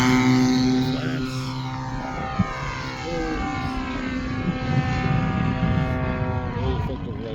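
A Hangar 9 20cc gas-powered P-51 Mustang model plane drones overhead during a demo flight, its engine a steady buzzing tone with rising and falling harmonics as it banks and passes, fairly loud and continuous.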